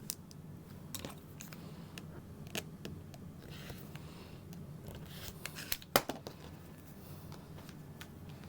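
Scissors cut a leather pattern for a convertible backpack bag, producing quiet, irregular snips and crisp clicks over a soft background hum, with one sharper snap near the end.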